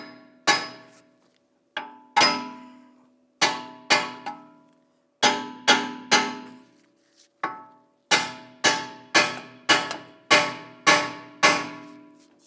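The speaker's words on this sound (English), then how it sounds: "And using a hammer, just give it a tap from the back side." Sharp metallic hammer strikes on the back of a rear wheel hub assembly of a 2009-2017 Volkswagen Tiguan, about fifteen close, ringing clangs in uneven bursts with brief decays between.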